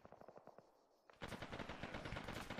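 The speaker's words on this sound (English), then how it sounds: "Shots close." Arma 3 military-sim gunfire: sparse single shots at first, then a sudden burst of dense, rapid automatic fire, loud and close, continuing without pause and with no talking.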